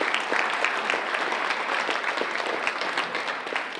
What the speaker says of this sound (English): A round of applause, Mr. Steinberg.